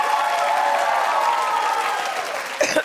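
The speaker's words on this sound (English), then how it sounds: "Clap if you just want them all to go away." Sustained studio audience applause on a talk show, a loud, full wash of clapping with some crowd noise, tapering slightly before a brief voice cuts in at the end.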